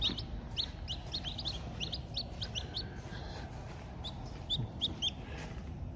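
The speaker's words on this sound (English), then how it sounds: "I can hear them already chirping in here" High, thin peeping chirps repeat in quick scattered bursts, close by, over a low background rumble, with no voices.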